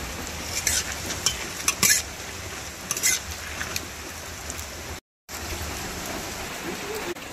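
Bay leaves, a dried red chilli, whole cumin and whole garam masala tempering in hot oil for khichuri: a steady, moderate sizzle with a few sharper crackling bursts, briefly cut by a short gap.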